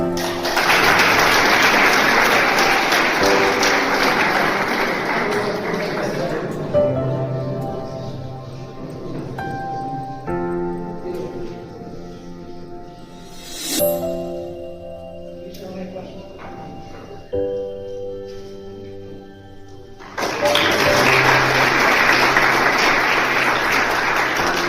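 An audience at a student farewell party applauds the principal. Loud, steady clapping opens, gives way to a stretch of music, then swells again at the end.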